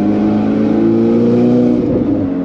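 A Ferrari engine revs loudly and continuously while driving, a dense, throaty roar that holds steady before shifting slightly near the end, close and with no talking.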